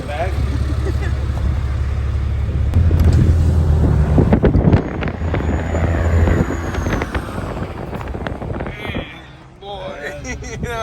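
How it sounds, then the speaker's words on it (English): A Cummins flatbed truck in Oregon drives along with a steady low engine rumble and road noise, with people talking loudly throughout. "I knew we ordered an Uber here in Oregon, but I didn't think it'd be a flatbed Cummins"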